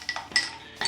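A spoon clinks against glass and ice as an iced espresso is stirred, a few bright metallic taps in quick, uneven succession.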